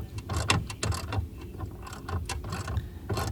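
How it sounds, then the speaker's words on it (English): A wrench ratchets a bolt tight on the rear seat latch of a 2019 Volvo S60, giving a close series of quick mechanical clicks in an uneven rhythm, with no talking. "applying torque on the third bolt on the back"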